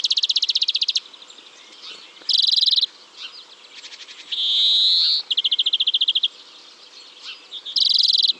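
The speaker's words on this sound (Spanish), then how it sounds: "el canto consiste en trinos diferentes, series de trinos, pueden ir más o menos empalmados, pero separados claramente" A forest bird in Málaga sings a series of clearly separated trills, each a loud, rapid buzzy burst lasting about a second, alternating with softer chirps and calls in a quiet woodland.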